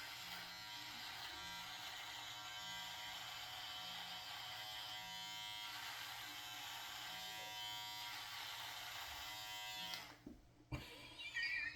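Electric razor buzzing steadily as it shaves off a beard, a close, thin mechanical hum with slight changes in pitch as it moves across the face, then clicking off near the end followed by brief handling noises.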